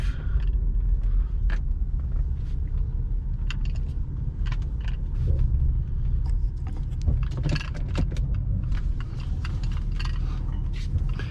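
A Subaru coupe's EJ207 engine idles as it warms up, a steady low rumble with scattered mechanical ticks and clicks nearby.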